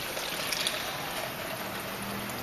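Water poured into a container to a fill line for mixing plaster in an investment casting key chain process; a steady, close trickling pour runs continuously without speech.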